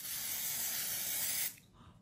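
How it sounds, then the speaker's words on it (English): A single steady burst of glitter setting spray hisses close by for about a second and a half, then cuts off abruptly into near silence. "A glitter setting spray immediately"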